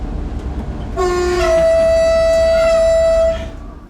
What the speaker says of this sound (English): give me your best train horn blowing